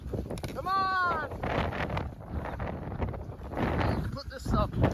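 Wind buffets the microphone during a blizzard on a frozen South Dakota lake while ice fishing, gusty rumbling noise under voices talking and shouting.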